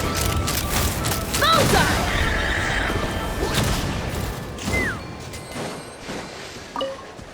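Rapid video-game gunfire bursts and booming impacts from a flying combat sequence, loud and dense in the first half, then sparser shots and electronic effects while voices call out over the action.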